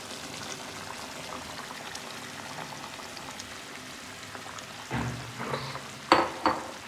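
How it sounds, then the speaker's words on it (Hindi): Tomatoes go into a pan of sizzling meat browned with ginger, garlic and spices for achar gosht, a steady frying hiss with a few louder splattering bursts near the end. "और अब मैं इसमें टमाटर ऐड करूँगी"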